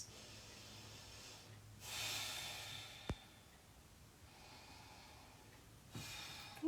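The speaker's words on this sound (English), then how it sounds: "Let's take a few deep breaths." Slow, deep breaths taken during a yoga pose at home, with soft airy inhales and exhales rising and fading close to the mic in a quiet room, plus one brief sharp tap.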